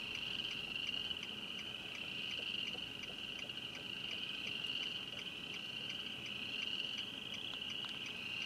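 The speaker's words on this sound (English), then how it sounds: "Can you hear those frogs and crickets?" Frogs and crickets call together at night beside the Missouri River in Missouri, a dense steady chorus with a constant high insect trill over a continuous bed of croaking, unbroken throughout.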